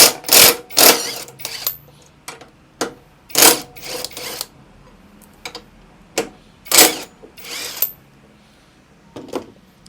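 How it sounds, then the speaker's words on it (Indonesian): An impact wrench works a 12 mm bolt loose while a motorcycle bracket and rear backrest are fitted, firing in repeated short, sharp rattling bursts separated by quiet gaps, close and without talking. "Pakai impact. Nih di baut 12 ya."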